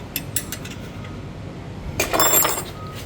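Hand tools tightening the rear brake caliper bolts on a 2021 Toyota RAV4 AWD, giving a few close ratcheting clicks early and a louder burst of metallic ratcheting near the end.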